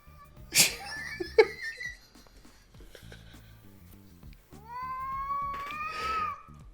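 A cat makes a couple of sharp sneezing or snorting bursts, then a rising, drawn-out meow that swells and falls, with faint background sounds in between.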